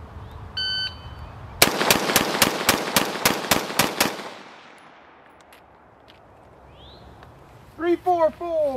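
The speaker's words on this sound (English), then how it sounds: "bang out 10 rounds." A rifle fires ten rapid, evenly spaced shots, each a sharp loud crack, followed by a fading echo and then brief speech.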